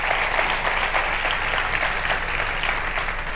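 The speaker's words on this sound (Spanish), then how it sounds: "Aplaudí bien fuerte al Señor, porque se lo merecen esta tarde." A church congregation applauds loudly and continuously in a dense, sustained wash of clapping with no break.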